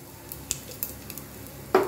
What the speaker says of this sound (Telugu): ఆయిల్ వేడెక్కింది, ఆవాలు వేస్తున్నాను.